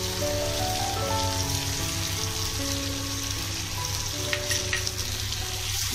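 Ingredients for a Bengali fish shukto, seasoned with sugar and salt, stirred in a cooking pan, a dense rain-like sizzle under a steady hum with a few faint scraping knocks.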